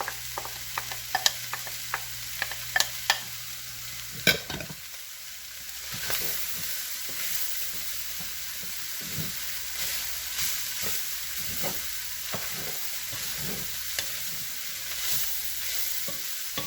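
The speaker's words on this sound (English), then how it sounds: "I'm going to put the onions in." Onions frying in a pot for chili, a steady sizzle with a cluster of sharp spoon-against-pot stirring knocks early on and softer scrapes later, close and alone with no talk.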